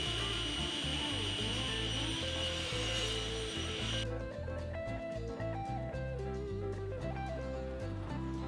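Outside supports on a wooden sliding dovetail toggle clamp are cut off, giving steady rhythmic rasping saw strokes close by with no talking.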